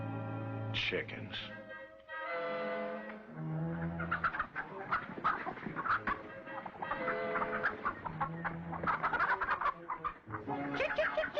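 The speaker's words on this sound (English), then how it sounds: "Chickens." Chickens cluck and squawk close by in a busy, overlapping chorus, with a voice calling "chick, chick" among them, in an old Western TV drama.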